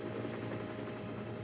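Harold the cartoon helicopter from Thomas & Friends drones as a steady, faint rotor buzz with a continuous mechanical hum.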